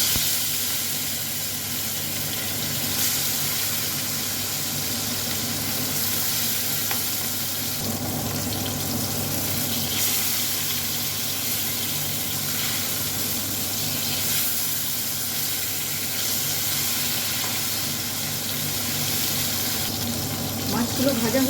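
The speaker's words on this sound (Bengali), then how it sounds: "লবণ আর হলুদ মাখানো মাছগুলো এখন দিয়ে দিচ্ছি।" Fish coated in turmeric and salt frying in hot oil in a kadai, a steady close sizzle and hiss that runs unbroken for over twenty seconds.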